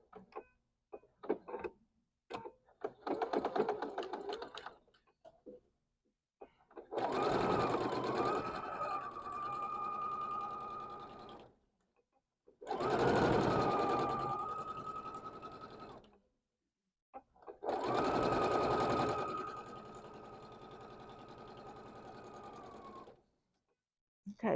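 A sewing machine stitches quilt block fabric in three steady, close runs of a few seconds each, its even whirring hum broken by quiet pauses and a few handling clicks.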